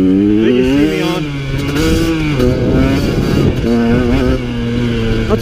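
A KTM 150 XC-W two-stroke dirt bike is ridden in open terrain, its small-bore engine buzzing loudly and continuously with rising and falling revs as the rider works the throttle on the pipe.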